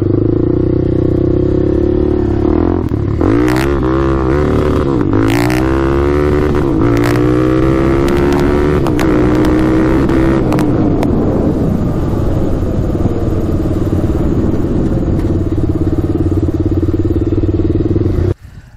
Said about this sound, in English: Alright, first ride on the 2004 LTZ400 is done.